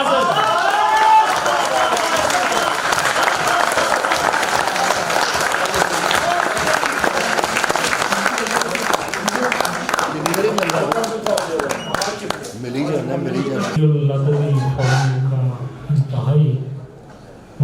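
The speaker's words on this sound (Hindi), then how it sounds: "भरपूर तालियों में इस्तक़बाल कीजिए आज़र" An audience at a mushaira in Riyadh breaks into loud sustained applause that gradually fades, while a voice speaks over the tail end.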